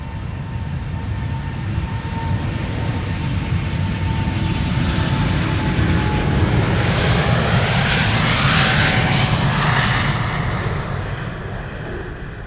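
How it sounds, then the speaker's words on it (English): A Delta Airlines jet departs Amsterdam Schiphol for Detroit, its engines roaring loud and steady up close, swelling into a strong rushing whine toward the end with no voices. "This is Delta Airlines flight 133 on its way to Detroit"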